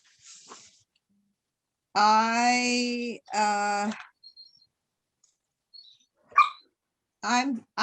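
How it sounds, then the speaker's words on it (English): Dogs at home whine and bark during a remote Zoom meeting: two long, drawn-out crying howls, then sparse short yelps and clicks separated by silence. "you have dogs at home that are crying and screaming"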